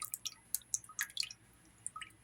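Thick tomato base poured into a pot at home, coming out in soft wet drips and squishy splats, close and quiet, a few irregular plops over a couple of seconds.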